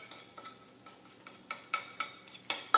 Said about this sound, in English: So I'm just chopping it up with my spatula.